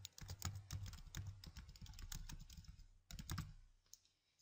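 Keys clack on a computer keyboard in a quick, uneven burst of close, quiet taps, pausing briefly before a few final strokes as a notebook name is entered.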